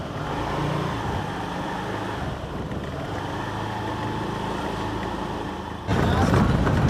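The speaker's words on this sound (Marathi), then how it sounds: "गाडी चालू झाली आहे." A car starts and heads off on a road trip toward Gorakhgad fort near Bhimashankar. Its engine and road noise give a steady moderate rumble, then turn louder and rougher near the end, with a voice talking over it.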